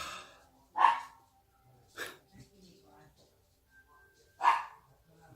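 Pet dogs, one named Bentley, bark in short sharp bursts, three loud barks spaced a few seconds apart close by in a quiet room, with faint breathing between them.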